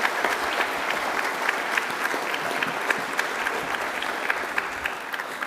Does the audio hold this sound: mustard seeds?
no